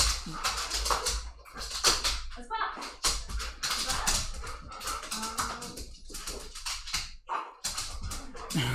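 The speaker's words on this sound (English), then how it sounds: "Yep, that's definitely Kennedy, the dog. Oh god, he's so noisy." Kennedy the dog whimpers and yips on and off during a home board-game session, close and fairly loud, mixed with people talking and handling game pieces.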